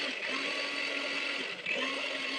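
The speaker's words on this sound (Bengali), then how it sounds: "তো মিক্সচারে পেঁয়াজ আদা রসুন এসব মিক্সচার করছিলাম" Electric mixer grinder running steadily while grinding onion, ginger and garlic, a continuous motor whine that holds level for a couple of seconds with one brief dip, no voices.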